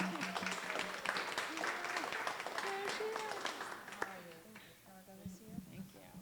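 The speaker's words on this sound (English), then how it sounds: "let's go ahead and give a huge round of applause for Brigitte Daniel" An audience claps for a speaker at a corporate event, a steady patter of many hands fading slowly, with voices and chatter mixed in underneath.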